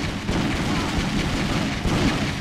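A video game gunshot, a loud dense boom with blasts running together over a constant heavy rumble, with no clearly separate shots.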